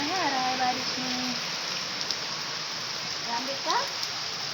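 Heavy rain pours down steadily as an even, broadband hiss, close and continuous, while a voice talks briefly over it at the start and again near the end.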